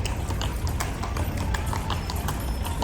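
Horses' hooves clip-clop steadily and close by, a dense run of sharp strikes over a low rumbling background with no one talking.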